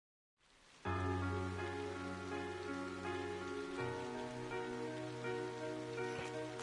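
Steady rain in the PS4 role-playing game The Legend of Heroes: Trails of Cold Steel, a dense continuous patter on surfaces that starts abruptly and holds evenly with no talk.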